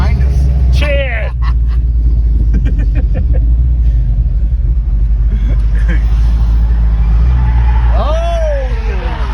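A car with a supercharged LS engine rumbles loud and close with a deep, heavy low end, its revving blurred by road noise as voices talk over it.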